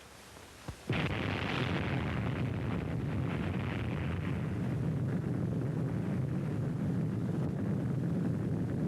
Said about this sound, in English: There is the ball of fire, growing and rising above the clouds and smoke of the explosion.